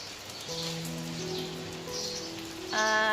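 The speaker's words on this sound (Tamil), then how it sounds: "எங்கள் ஊரில் மழை, ஆனால் கொஞ்ச நேரத்தில் நின்றும்." Rain falls steadily over a town as a soft, even hiss. Sustained tonal notes, like music or a chime, play over it at moderate loudness.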